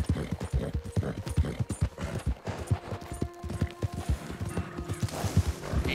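Horse hooves galloping in the Red Dead Redemption 2 video game, a fast, loud, rhythmic clip-clop of hoofbeats running continuously with faint game ambience behind.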